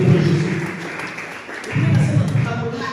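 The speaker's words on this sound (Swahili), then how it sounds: "Chapia Yesu makofi basi." A church congregation claps together in two dense, loud bursts of hand applause, with a brief lull between them, during a bilingual Swahili and French service.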